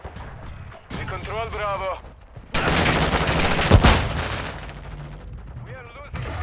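Heavy gunfire and explosions in a video game battle roar for several seconds, a dense fusillade of rapid shots and booms, with voices shouting and radio callouts heard before and after.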